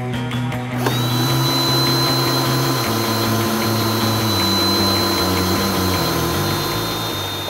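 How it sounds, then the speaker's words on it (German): A resistance drill bores into a tree trunk in a forest, with a steady high-pitched motor whine and a grinding, shifting low drone that runs continuously from start to finish. "Jetzt habe ich hier fleißig gebohrt"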